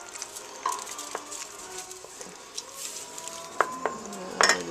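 A spoon stirring margarine into mock strawberry jam made from tomatoes in a pot just off the heat, with light sizzling and several sharp metallic clinks and scrapes against the pan, no speech.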